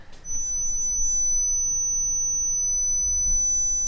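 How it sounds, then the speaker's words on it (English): A simulated tinnitus ring, a single steady high-pitched pure tone that starts almost at once and holds unbroken over a low background hum. "The most common sound that I'm just going to play now is this sort of higher pitch ringing sound"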